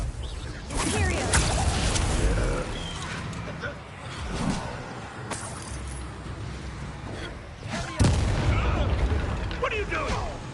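Confringo fire spells burst in Hogwarts Legacy on PS5, several sharp explosive pops over a churning bed of combat effects and shuffling mechanical clatter, with louder impacts near the start, middle and around eight seconds.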